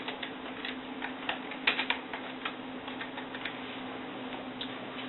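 Keys clatter on a computer keyboard in a steady run of light, close taps as a folder name is typed, with a faint constant hum underneath and no voices.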